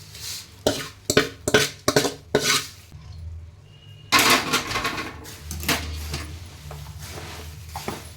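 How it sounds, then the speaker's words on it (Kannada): Avalakki (flattened rice) is mixed in a pan with a string of sharp metallic clanks and scrapes at first, then a short pause and quieter, rougher stirring. "ಇದಕ್ಕೆ ಸ್ವಲ್ಪ ಹಾಕಿ ಕಲಸೋಣ."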